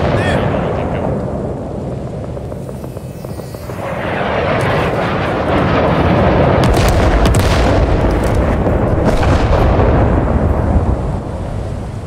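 Napalm strike in the Rising Storm 2 Vietnam war game: a deep, rolling roar of fiery explosions swells after a few seconds into a sustained, loud rumble with crackling bursts, and no voices over it.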